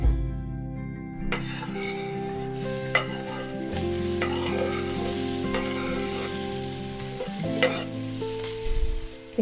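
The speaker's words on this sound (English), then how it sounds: "Our next job is to fry up 3 onions." Three onions frying in a pan, a constant sizzle with occasional scraping stirs, close up beneath continuous background music.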